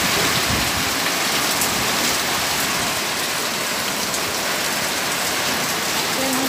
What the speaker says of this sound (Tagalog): Super malakas talaga yung ulan.